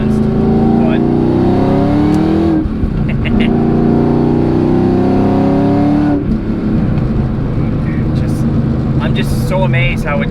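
A Ford Cobra with a T56 Magnum manual gearbox accelerates hard through its gears, the loud engine note climbing steadily and then dropping sharply at each of two quick upshifts, heard from inside the car.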